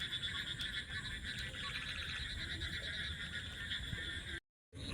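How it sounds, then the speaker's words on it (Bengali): On a village wetland at night, crickets trill in a constant high chorus while frogs croak underneath, a steady outdoor drone that cuts out abruptly near the end. "ঝিঝি পোকার ডাক, ব্যাঙের ডাক"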